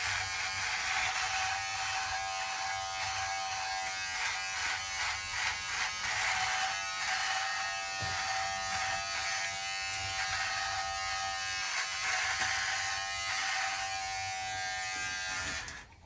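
An electric shaver running low on power buzzes steadily through a thick beard, its thin whine wavering as it drags across the hair for a long stretch, fairly close and alone.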